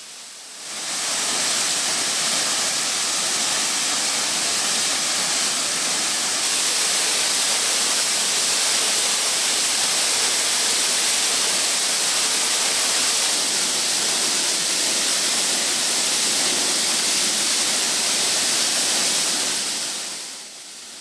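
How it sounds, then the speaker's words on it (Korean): Wolgwang waterfall, a three-tiered fall about 30 m high swollen after rain, pours with a loud, continuous roaring rush of water that fades in at the start and out at the end. "거대한 물줄기를 쏟아내며 떨어지는 월광폭포는 3단으로 이루어진 폭포로 대략 30m 정도 된다."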